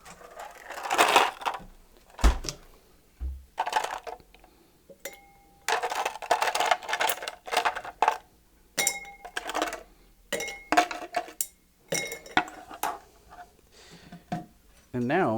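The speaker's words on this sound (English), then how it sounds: "So we'll get our ice." Ice clinking into a cocktail mixing glass while a Broken Oath cocktail is being made, with sharp scattered clinks and rattles spread across the clip between stretches of someone talking.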